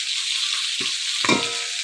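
Fish frying in a wok for a village-style Bengali dish, a steady loud sizzle throughout with a couple of brief low clunks of a utensil against the pan.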